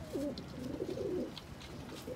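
Soft, low cooing from a slate-colored pigeon in a few rolling phrases, close by, with faint chirps and light background noise.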